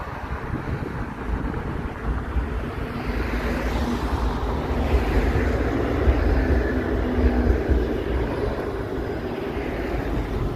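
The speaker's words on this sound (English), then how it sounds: "it was the streetcar going over the bridge" A Toronto streetcar rumbles across a bridge overhead on a cold day, a broad low roar that swells and fades under wind noise on a city walk.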